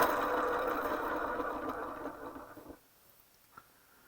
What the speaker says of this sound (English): I'm going to sharpen this up